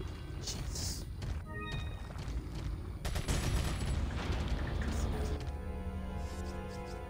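Gunfire aimed at the player in Resident Evil 4, a dense, continuous clatter of rapid shots and mechanical rattling over a loud, busy game background, with a voice speaking over part of it.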